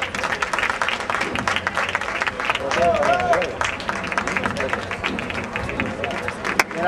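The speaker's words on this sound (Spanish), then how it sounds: "Ese aplauso, ese aplauso." Scattered applause and clapping around a youth football match between Alicante CF juvenil A and Los Imposibles CF, set against outdoor crowd babble and voices calling out nearby.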